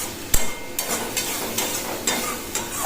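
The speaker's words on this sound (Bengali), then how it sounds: "তো এই পর্যায়ে আমি একটুখানি জল দেবো, দিয়ে আরও ভালো করে আরও কিছু সময়ের জন্য আমি কষাতে থাকবো" Spice paste with a little water is stirred and fried in a pan, sharp spoon scrapes knocking every half second or so over a steady close sizzle.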